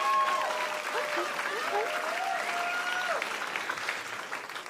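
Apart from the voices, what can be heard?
audience applauding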